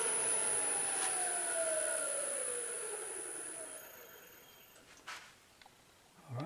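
A wooden globe spins on a lathe while being sanded at high speed, a steady whine and whir that slowly drops in pitch and fades as it winds down, with a few brief knocks near the end.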